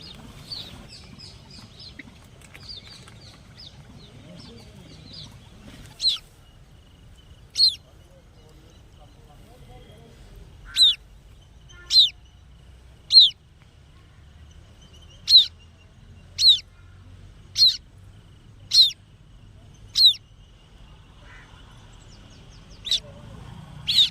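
A waterhen calls with about a dozen sharp, high notes spaced a second or two apart over a quiet background.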